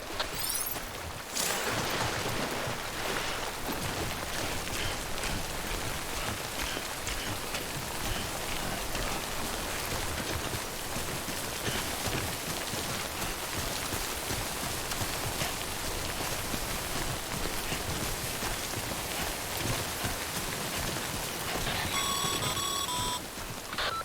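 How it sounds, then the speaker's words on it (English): Steady, dense rain falls as timefall in the video game Death Stranding, a loud continuous hiss that runs unbroken throughout, with a brief sharp tonal beeping near the end. "Don't stay out in the rain any longer than you have to."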